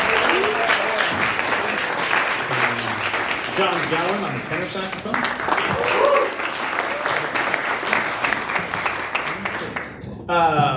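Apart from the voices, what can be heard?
audience applause for jazz band musicians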